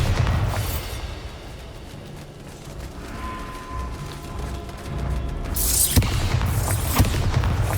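Bombarda explosion spells in Hogwarts Legacy go off in repeated booming blasts and crashes over a low rumbling game soundscape, with heavier impacts toward the end.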